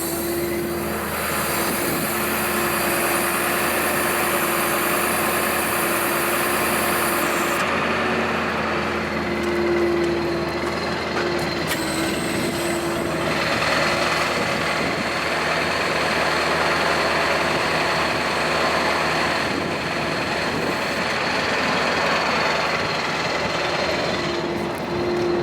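A Ford F550 4x4 bucket truck engine runs steadily while the outrigger is raised, a constant close mechanical drone with a hydraulic tone that shifts partway through.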